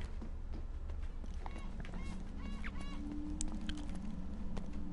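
A loud bird honks repeatedly in the Uncharted video game, goose-like calls cutting over steady game ambience and footsteps.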